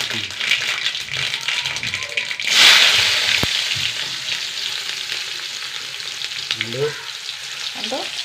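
Mustard seeds and shallots hit hot oil with a sudden loud burst of sizzle, then a steady close crackle with scattered popping and a sharp utensil tap, while a voice speaks at times.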